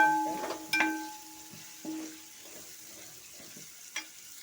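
Bird's eye chillies fry in a pan for garlic pickle, a soft close sizzle with sharp clinks and scrapes of a stirring spoon against the metal at irregular moments.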